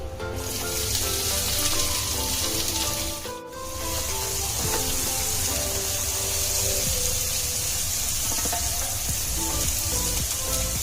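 Chopped onions frying in a pan with cumin and asafoetida, a continuous loud sizzle that dips briefly once before resuming steadily, with no one speaking.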